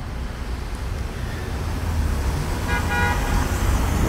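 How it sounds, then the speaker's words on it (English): Traffic streams along the West Side Highway in Manhattan, a continuous roar of passing cars with low rumble and tire noise, swelling slightly as vehicles approach, with a faint brief tone near the end. "Let's watch the traffic go by here on the West Side Highway"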